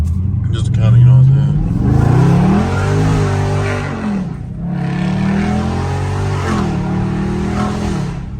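A BMW 430i in sport mode blips its engine on a high downshift in traffic, rising in pitch and then settling into a sustained drone, with a voice talking over the engine noise.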